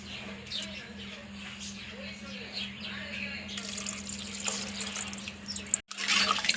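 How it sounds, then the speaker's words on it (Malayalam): First-press coconut milk is poured into a simmering egg and potato curry in a home kitchen, a soft continuous liquid trickle and splash close up, ending with a short clatter of a pan. "ഇത് ഒന്നാം പാൽ ഒഴിക്കാം."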